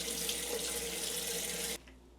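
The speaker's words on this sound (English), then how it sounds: "And we rinse again." Water runs steadily from a tap into a sink for a face rinse, a close, constant splashing hiss that stops abruptly near the end, leaving faint drips.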